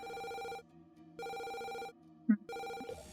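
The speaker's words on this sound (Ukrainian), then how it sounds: "зараз дзвінок з отим вченим буде" Phone ringtone in the Shapik The Moon Quest video game, three sustained electronic rings with short silent gaps between them, clear and close, and a brief click partway through.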